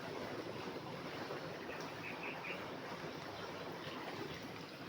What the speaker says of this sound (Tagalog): Dito sa gilid ng sapa, may tubig ngayon.